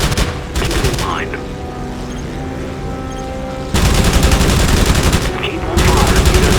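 Bursts of rapid aircraft machine-gun fire in the Wings of Prey flight game, loud and close, cutting in and out in several long strafing runs with a steady engine drone beneath.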